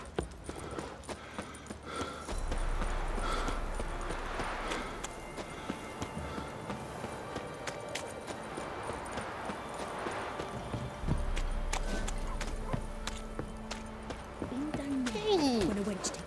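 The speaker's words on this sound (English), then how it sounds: "Time to water the horses." Horse hooves clip-clop at a steady walking rhythm in the video game The Witcher 3, moderately near, with birdsong and ambient outdoor sound and a few faint chirps near the end.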